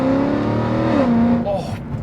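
A catless Mercedes CLK63 Black Series V8 holds a loud, sustained rev, then its pitch drops and tapers off near the end.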